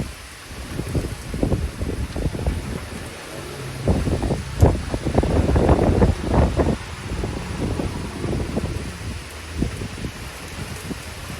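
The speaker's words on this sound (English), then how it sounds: "Here comes a sustained gust." Sustained wind gust roaring through a severe thunderstorm as rain begins under a passing shelf cloud, a broad rushing noise that swells to its strongest midway and then eases, with no voices.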